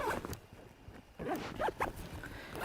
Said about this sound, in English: I can open up the zippers and they're going to stop where the compression straps are